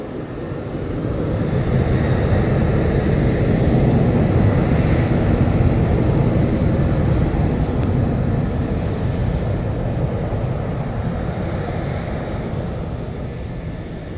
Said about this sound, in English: So you'll hear the roar of the engines on this one as well.